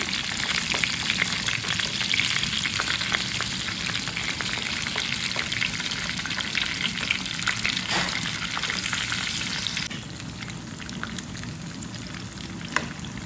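Tomatoes saute in a pan with a continuous, dense sizzle that stays close and steady throughout, easing slightly toward the end, with no talking.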